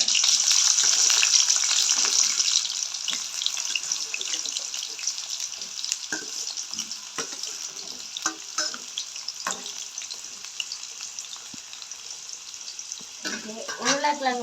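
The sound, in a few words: potatoes frying in oil for a Jaffna potato curry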